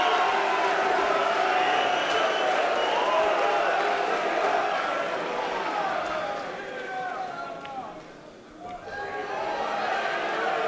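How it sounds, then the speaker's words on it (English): Spectators at a Mosconi Cup pool match roar and clap, a loud sustained crowd noise with voices and cheering mixed in, dipping briefly before swelling again. "And listen to the crowd."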